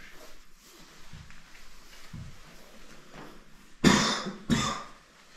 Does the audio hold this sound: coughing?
yes